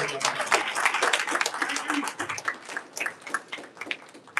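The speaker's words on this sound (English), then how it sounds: "I want to give him and Mike a round of applause" A crowd claps in a dense, lively round of applause, with some voices mixed in beneath the clapping.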